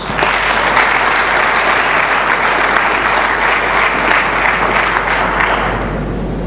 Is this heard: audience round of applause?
yes